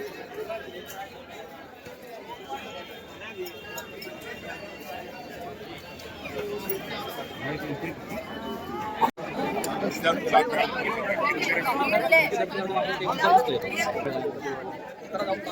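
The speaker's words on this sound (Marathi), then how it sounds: "बगता है तुम्हें गर्दी" Dense crowd chatter and babble at Mamleshwar temple in Ujjain, a steady hubbub of many voices that swells louder in the second half, with a brief sharp knock near the middle.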